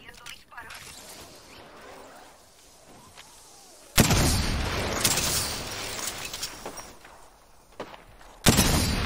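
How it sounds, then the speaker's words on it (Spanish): Heavy gunfire in the video game Apex crashes in abruptly, sustained and loud, with a sharp burst returning near the end after a quieter opening. "Me han descubierto, estoy recibiendo disparos."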